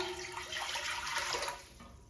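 Hot water runs from a kitchen tap into a measuring jug for dyeing wool, a steady close rushing flow that tapers off slightly toward the end, with no talking.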